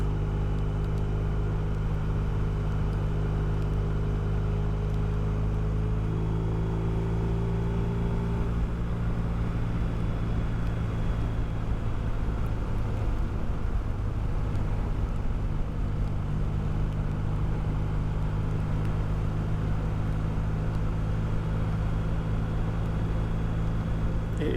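Car driving on a road in France in wet weather, a steady low engine and tyre drone with continuous road rumble throughout, close and even in level, no talk.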